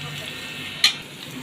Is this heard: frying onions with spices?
yes